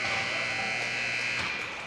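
An end-of-period buzzer sounds at a junior ice hockey game, a steady, sustained electronic drone that fills the rink for about two seconds and fades slightly at the end.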